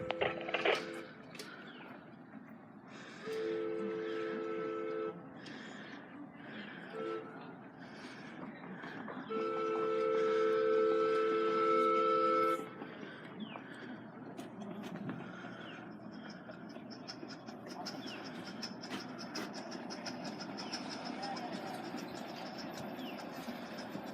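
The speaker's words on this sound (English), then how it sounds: "There he is, steam engine's coming around." A live-steam Hudson locomotive, number 5279, fired by propane, rumbles along a miniature railway. Rolling wheel noise continues throughout, broken by several sustained tonal whistle blasts from the engine, with the loudest one lasting a few seconds.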